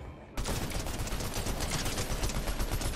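Rapid automatic gunfire in a video game shooter, a dense continuous stream of loud shots beginning abruptly after a brief quieter moment and holding steady to the end.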